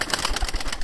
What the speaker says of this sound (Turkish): Şimdi bu kuşlar, bunlar hepsi baş damızlıklarım.